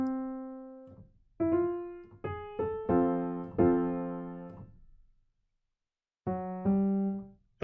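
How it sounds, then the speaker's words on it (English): Piano chords play the Royal Road progression in a DAW, sustained block chords struck one after another with a pause before the last pair, clean and alone. "the one of the most famous or most used chord progression in anime is basically the Royal Road chord progression"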